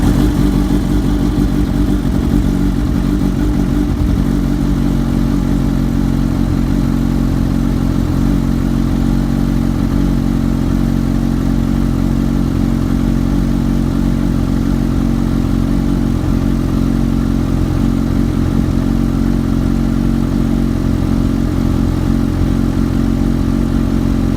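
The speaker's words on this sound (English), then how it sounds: "Restart the bike, let it idle for another 10 seconds." Kawasaki Ninja H2 motorcycle, 2016 model, engine idling close up, a loud, steady mechanical thrum that holds unchanged for over twenty seconds.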